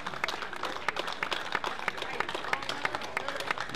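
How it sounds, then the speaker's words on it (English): Crowd applause at a men's Premier League water polo final, scattered sharp claps forming a lively, moderately distant patter. "big round of applause, warm round of applause for both teams"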